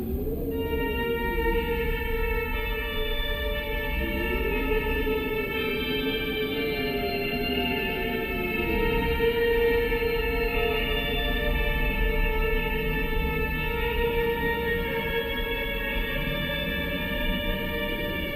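The moon song from the Fatal Frame video game, played on piano with a soft, sustained, reverberant tone; slow, gliding notes ring continuously for the whole stretch, eerie and moderately quiet, with no talking.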